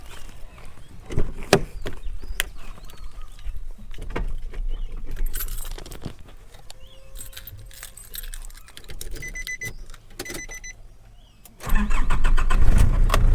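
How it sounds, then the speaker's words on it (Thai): Keys jangle in a Nissan Navara pickup before its engine cranks and catches near the end, settling into a loud, steady running rumble close by, with no talk. "ลืมฟังเสียงเครื่อง"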